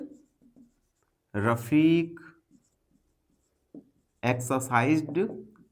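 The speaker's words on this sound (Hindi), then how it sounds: "तो सबसे पहले हम लिखेंगे गिवन, रफीक एक्सरसाइज्ड" Pen on paper while a math fractions exercise solution is written out by hand, with faint scratching mostly buried under two stretches of close, clear talking.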